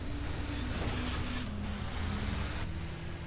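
A delivery truck drives in a GTA video game, a steady engine drone with road and wind noise, constant and moderately loud, with no voices.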